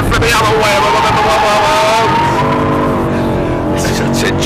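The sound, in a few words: BMW race car sliding sideways through chicane at Thruxton Circuit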